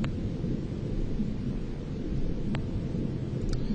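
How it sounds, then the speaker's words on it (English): A heavy storm in the video game X-COM: Terror from the Deep brings a deep, continuous rumble of thunder and wind-like roar, fairly loud, with a couple of brief crackles near the end. "We shall also have heavy storm come out,"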